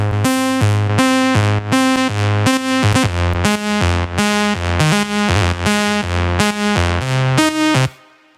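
A processed synth lead with EQ, OTT compression and reverb plays over chords in a remix. Rhythmic sustained hits run for several bars, then stop, leaving a short reverb tail.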